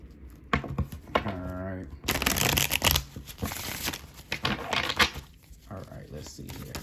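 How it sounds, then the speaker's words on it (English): Rider-Waite tarot cards are shuffled by hand in quick riffling, crinkly bursts that come and go over a few seconds, close and crisp, with a person talking in between. "I want to use the Rider-Waite to clarify these bad boys. Let's do a good old shuffle."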